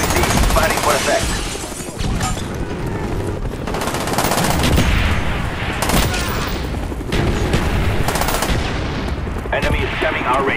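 Call of Duty Black Ops multiplayer artillery strike: a dense, loud, continuous barrage of gunfire and explosions, with booming impacts rolling on throughout and no pause.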